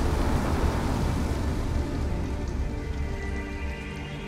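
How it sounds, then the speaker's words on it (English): Heavy rain pours steadily in the video game Detroit Become Human, a dense, loud hiss of drops pattering on surfaces that stays constant throughout, with no voices. "Exhausted and it's pouring rain."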